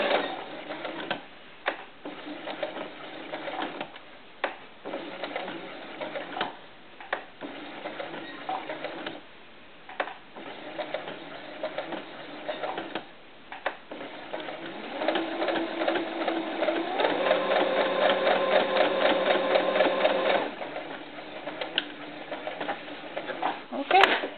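A sewing machine stitches the curve of a doll diaper in short, rhythmic bursts separated by pauses, then hums through one longer steady run before stopping, close and clear.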